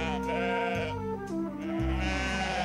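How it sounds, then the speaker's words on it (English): Sheep bleating close by on a mountain, several long wavering calls overlapping in a loud, sustained chorus. "Sheep have arrived."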